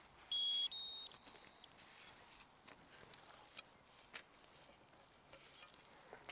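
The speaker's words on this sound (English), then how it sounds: "we power on the system with this button. So we hear a few beeps." A few short electronic beeps from a drone system powering on at the press of a button, three clear tones in the first two seconds over a low background hiss, followed by faint clicks.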